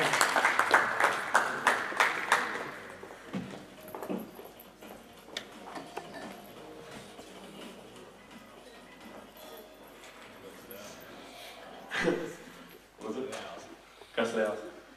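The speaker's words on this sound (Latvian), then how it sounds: "aplausi." An audience gives brief rhythmic applause for a correct answer at a live quiz-style event, the clapping fading after a couple of seconds as people talk afterward.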